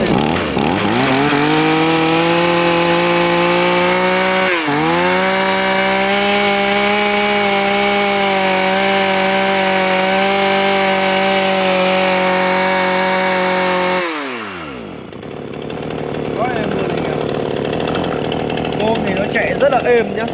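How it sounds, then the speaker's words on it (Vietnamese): A Japanese D7 chainsaw engine idles steadily and loud close by, briefly dipping and recovering, then cuts off abruptly, leaving quieter background with faint sounds; someone talks in the background. "test nổ tiếng máy con D7 này"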